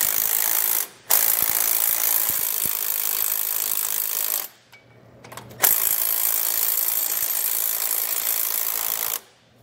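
A ratchet with a 9/16 socket runs down bolts while installing Firestone Ride-Rite air helper springs on a 2020 Toyota, making loud, dense, continuous clicking in long runs broken by brief pauses.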